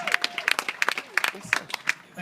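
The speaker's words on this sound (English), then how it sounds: "Give him a big round of applause." Wedding reception guests clapping after a best man's speech, scattered uneven claps rising and falling around a voice speaking over them.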